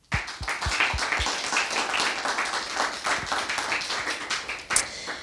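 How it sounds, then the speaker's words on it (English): A warm round of audience applause at a literary panel celebrating Binyavanga Wainaina, dense clapping from a room of listeners, sustained and fairly close, opening with a few distinct individual claps. "please join me in giving them all a big warm round of applause"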